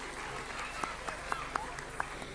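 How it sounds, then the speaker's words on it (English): Audience at a school event claps after a classical performance, faint scattered hand claps with a few sharper individual claps standing out over a murmur of talk. "Give them a resounding applause."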